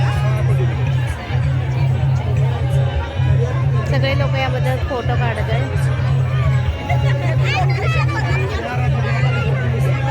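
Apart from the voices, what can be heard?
crowd chatter at Pawana river fair in Pune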